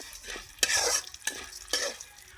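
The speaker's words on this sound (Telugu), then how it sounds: "మెంతులు, జీలకర్ర, మినప్పప్పు, ధనియాలు ఇవన్నీ మనం నూనెలో అయితే ఎంచుకుందాం" Fenugreek, cumin, urad dal and coriander seeds crackle in hot oil, with a few sharp spatula strokes and bursts of sizzle spaced about half a second apart, close and fairly quiet.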